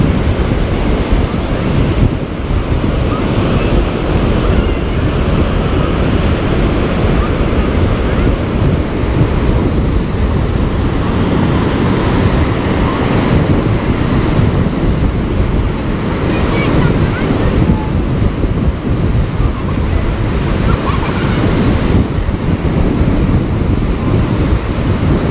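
Surf rolling continuously onto a sandy beach at Rosolina Mare, Italy, a steady loud wash of breaking waves with wind buffeting the microphone throughout.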